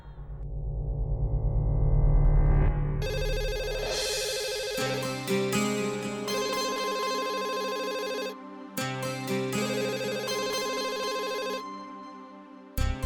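A landline telephone rings with a synthetic electronic tone, sustained in long bursts with a short pause between them, alone with no talking over it.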